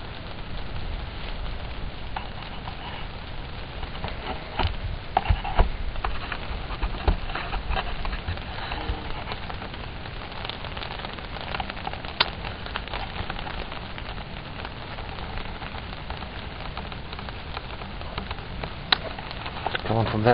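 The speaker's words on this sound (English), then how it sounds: "Got a little bit of rain coming through." Steady rain pattering on surfaces outdoors at night at Bonham State Park, a continuous soft hiss with scattered louder drops throughout.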